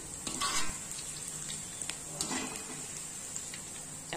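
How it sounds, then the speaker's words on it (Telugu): Gobi manchurian, battered cauliflower pieces, deep frying in hot oil, a steady bubbling sizzle with intermittent crackles and stirring scrapes, close and moderately quiet, no voices. "చూడండి, ఇలా మరీ ఒట్టిగా కాకుండా ఈ విధంగా ఫ్రై చేసుకోవాలి, డీప్ ఫ్రై"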